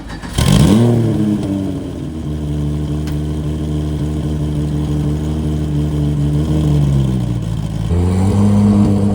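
A modified car engine revs hard at a New Year gathering in Japan, its tone sweeping up sharply, holding a loud steady drone, then climbing again near the end, close and alone.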